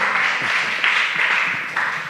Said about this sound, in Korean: 우리 큰 박수 한번 보내주시기 바랍니다